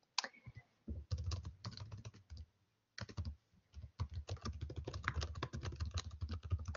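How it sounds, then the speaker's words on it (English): Rapid clicking of a computer keyboard in bursts with short pauses, fairly close and steady, no voices. "I believe I can hear someone typing"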